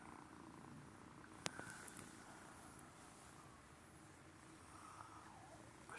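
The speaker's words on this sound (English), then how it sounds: "Can you hear him? He's purring." A quiet, steady cat purr rumbles close by in a calm room, low and continuous, with one brief click partway through.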